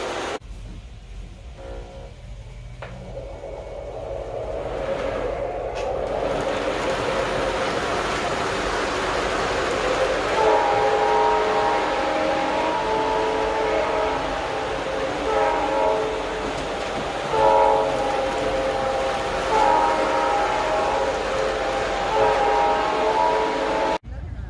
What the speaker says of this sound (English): Here we're running an O-scale layout.